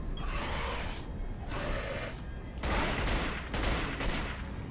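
Bursts of gunfire from the video game Cold Fear, including rapid AK rifle fire, crackle in dense repeated volleys at moderate loudness with short pauses between them.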